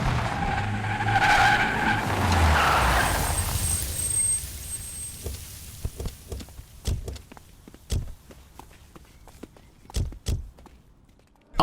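A car in a tense roadside scene in a Hindi-dubbed South Indian action film, tires skidding loudly as it speeds off, a broad roaring burst over the first few seconds that fades, followed by scattered sharp clicks and knocks.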